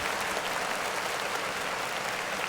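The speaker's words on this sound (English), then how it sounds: "clap it up for my girl right here again" Audience clapping at a live podcast taping, dense and steady throughout, a continuous wash of many hands at moderate level with no break.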